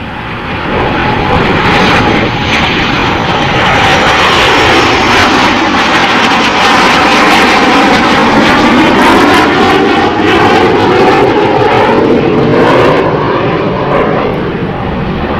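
Jet aircraft in the Missing Man formation roar past at an Indian air show, a loud, continuous engine rush with a sweeping pitch shift as the formation flies over, with no talk over it.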